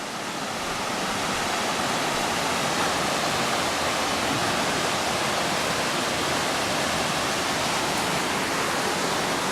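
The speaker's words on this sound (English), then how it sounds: "You got a nice picturesque view of the waterfall" Waterfall at Swatara State Park near the Bordner cabin and canal ruins, a loud, steady roar of falling water heard close and unbroken throughout, with no voices.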